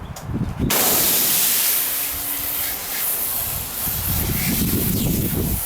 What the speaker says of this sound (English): we're just gonna hose that off now